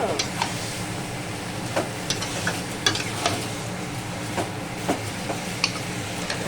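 Meat sautéing in a hot pan with green chilies and Kashmiri chili powder gives a constant sizzle, broken by regular scraping stirs of a spoon against the pan.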